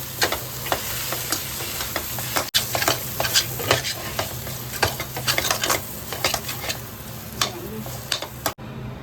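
Salt being mixed into mango pulihora in a pan produces busy, close clattering and scraping from repeated spoon strokes over a faint sizzle, with two brief dropouts and no talking.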